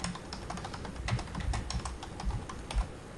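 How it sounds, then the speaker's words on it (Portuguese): Fingers type on a computer keyboard in a steady run of close, quick clicking key presses with a few heavier thumps, likely the spacebar, and no talk over it. "Aqui eu vou digitar o CEP"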